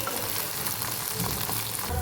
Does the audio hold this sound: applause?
no